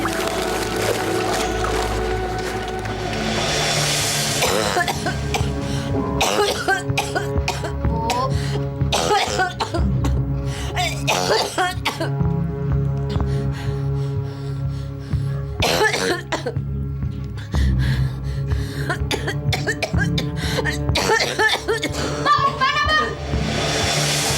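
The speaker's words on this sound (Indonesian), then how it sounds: "Kamu nggak ngeliat batuk ibu kamu tuh udah parah banget." A woman coughs badly again and again in a soap-opera home scene, harsh bursts breaking through background music and the sound of people moving about, loud and close.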